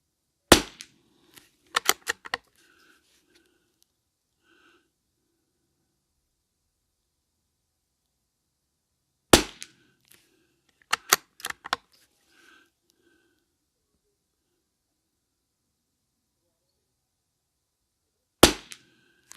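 A Lithgow LA101 .22LR rifle firing RWS special match ammunition at targets, sharp single cracks at intervals of several seconds, some shots closely grouped, with silence between.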